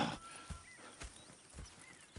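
A horse in Red Dead Redemption 2 plods with slow, evenly spaced hoof thuds, quiet and close, over a faint outdoor ambience.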